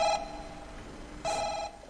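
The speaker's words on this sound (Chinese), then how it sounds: "来电话。" An incoming call rings on a telephone during a Chinese comedy sketch on stage, with two short electronic ring bursts standing out over a steady background hum.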